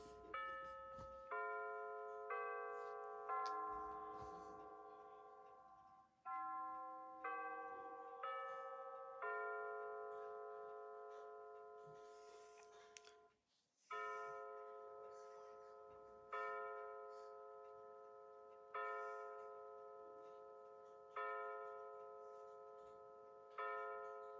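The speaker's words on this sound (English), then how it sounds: "And now it will chime 9 times." A Bulova C3542 wall clock strikes its chime sequence, a melodic run of clear resonant bell tones followed by nine evenly spaced single strikes, each ringing out and decaying before the next, close and alone in a quiet room.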